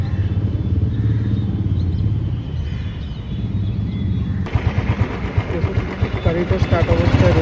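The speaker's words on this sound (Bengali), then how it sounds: "গাড়িটা আমি একটু স্টার্ট করে দেখাচ্ছি।" A Royal Enfield Thunderbird 350X motorcycle engine fires up partway through, then runs at a close, loud, steady idle with a rhythmic thumping beat after a stretch of quiet background noise.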